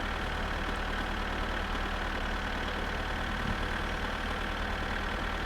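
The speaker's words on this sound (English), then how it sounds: "We got the tractor. We're motoring in the Kekmet." A steady, rumbling tractor engine in the video game My Summer Car idles and drones continuously at an even level, with no voices over it.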